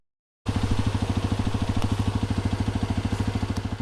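A Hero Xpulse 210 motorcycle engine starts up abruptly and idles close by with a steady, rapid thumping rhythm.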